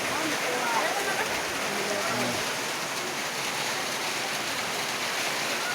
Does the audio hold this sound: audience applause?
no